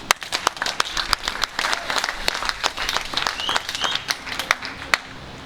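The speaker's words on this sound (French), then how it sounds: "Acclame Jésus" A church congregation applauds and cheers in a steady burst of clapping that carries on throughout, with scattered voices and shouts mixed into the dense applause.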